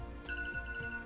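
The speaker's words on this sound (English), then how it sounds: "That's my alarm saying that this episode's done" A short electronic phone alarm tone, a steady high beeping melody repeating briefly at low volume.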